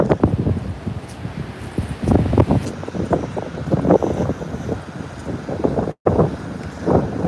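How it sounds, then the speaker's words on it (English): Strong gusts from Storm Franklin on the Norfolk coast buffet the microphone in loud, uneven bursts, with a brief dropout partway through and no voices. "That's definitely windy."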